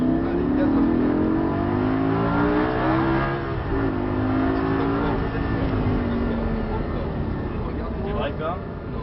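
A Lamborghini on a track during a driving course accelerates at full throttle, its engine note climbing steadily under an instructor's talk, loud and close from inside the cabin.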